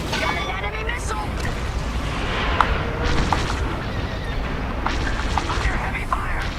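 Blaster fire and explosions in the space combat game Star Wars Squadrons form a steady roar of rumbling booms and crackling shots, loud and continuous, with a voice talking over the battle.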